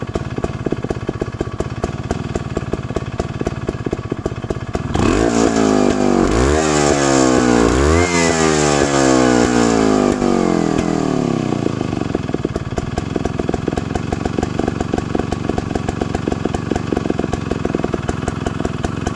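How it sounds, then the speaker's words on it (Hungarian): A Robi 151 two-stroke moped engine runs loudly up close: a quieter buzzing idle, then a sharp rise with several rising and falling revs, before settling back into a steady rattling idle. "Számolni lehet az alapjáratot."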